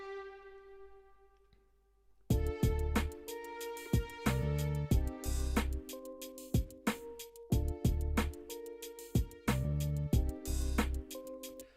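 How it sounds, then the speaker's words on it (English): A synth pattern with hall reverb at an even dry/wet blend, punchy rhythmic chords and a thumping low beat carrying a moderate ambient tail, following a sustained chord that fades out. "then you're hearing basically half unaffected signal and half affected signal blended together"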